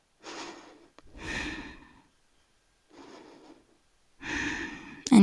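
Slow, audible breaths during a beginner yoga session for energy: long airy exhales and inhales, close and fairly loud, in about four separate drawn-out breaths with quiet gaps and no speech.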